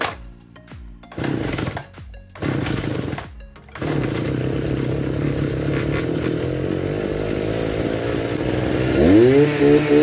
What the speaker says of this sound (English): this is a 50cc Washang two-stroke weed whacker motor, and you start it just like a weed whacker